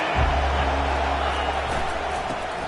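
A stadium crowd at a Miami versus Oklahoma college football game roars as a steady, dense wash of noise, with a commentator's voice over it.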